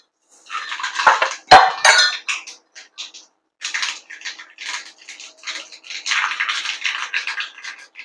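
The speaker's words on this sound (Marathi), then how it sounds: "राई व्यवस्थित तडतडली" Mustard seeds splutter and crackle in very hot oil for a tempering, producing irregular bursts of sharp popping and hissing, loud and close, with one sharp metallic clink near the start.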